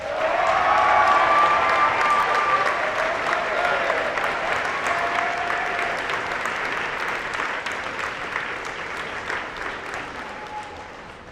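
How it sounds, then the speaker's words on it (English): Sustained audience applause fills a school senior honors convocation as the salutatorian is welcomed, a dense steady clatter of many hands that swells early and slowly tapers off. "please, with a nice round of applause, welcome Robin Love"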